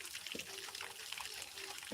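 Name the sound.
water from a hose pipe watering plants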